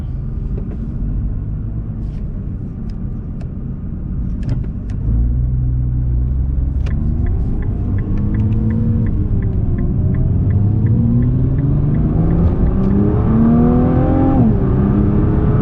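A Nissan GT-R Nismo engine heard from inside while driving, a loud, deep rumble that climbs steadily in pitch as the car accelerates through the gears, with small clicks and ticks over the drone.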